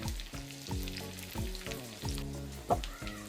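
Crushed whole garlic and mustard seeds hit hot oil in a pan, giving a steady loud sizzle with crackling pops and one sharp spatter near the end, no voices.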